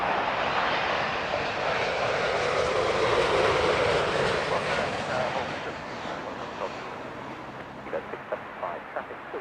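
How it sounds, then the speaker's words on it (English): An Air Canada Boeing 787-9 Dreamliner landing at Heathrow: a loud, broad jet roar that swells, then slowly fades as the aircraft passes, leaving distant rumble and faint clicks at the end. "This is Air Canada on a 787-9 Dreamliner inbound from Calgary."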